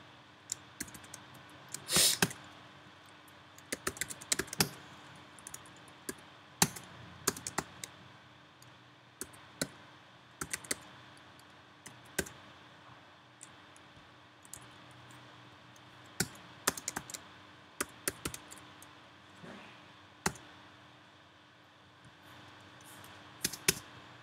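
Typing on a computer keyboard while coding in ASP.NET Core, quiet irregular clusters of key clicks spread over about twenty seconds, close and without voices.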